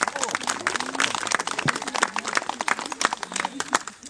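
A crowd applauds a magician with steady, dense clapping that fills the whole stretch at moderate loudness, with a voice faintly mixed in.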